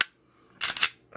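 Two quick sharp clicks from a Smith & Wesson Shield Performance Center pistol trigger being worked, crisp and close in an otherwise quiet setting.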